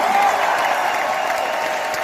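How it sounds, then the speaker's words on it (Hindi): Dense crowd applause at an award function in Tyagraj Stadium, Delhi, a continuous wash of many hands clapping at an even, sustained level. "एक बार जोरदार तालियां"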